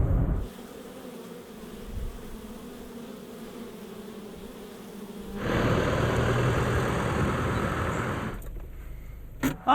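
Wild bees swarm loudly around a hive built inside an underground telephone cable pit, a steady dense buzz from start to finish that grows louder and closer partway through, with no talking.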